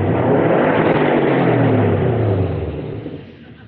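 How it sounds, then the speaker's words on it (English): A grey 2011 Subaru Impreza WRX sedan with a 5-speed manual gearbox drones through its exhaust with a loud steady rumble that falls in pitch as the revs drop and fades toward the end. "the car does come with an exhaust system, so you can hear the Subaru, unique Subaru sound"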